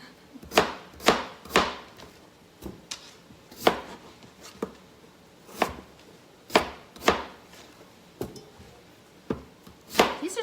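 A knife chops red onions and other vegetables for a vegan potato and corn chowder, striking the cutting board in sharp, uneven knocks, about a dozen over the stretch with short pauses between bursts, close and fairly loud with no talking.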